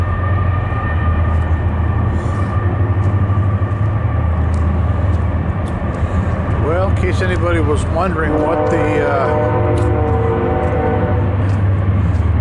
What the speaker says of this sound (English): Here comes the train in the distance.